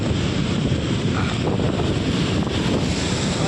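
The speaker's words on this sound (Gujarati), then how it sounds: "ફૂલ દરિયા ને ફૂલ મોજા" Sea surf rolling onto the shore at Chowpatty beach in Mumbai, a steady near roar of breaking waves mixed with heavy wind buffeting, continuous for the whole stretch with no voices.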